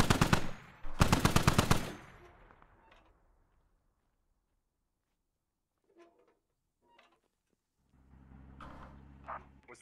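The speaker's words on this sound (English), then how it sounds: "they're shooting at friendlies!" Bursts of automatic gunfire from a military shooter video game, Squad, crackle loudly in rapid rattling volleys at the start, then fade to silence with a few faint distant shots and a low rumble near the end.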